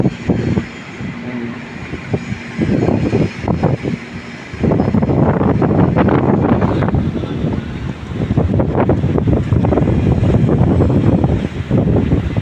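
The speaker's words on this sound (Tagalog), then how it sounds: "Lakas ng hangin." Strong wind buffets the microphone in loud, roaring gusts that surge and ease throughout, with a steady rumble underneath.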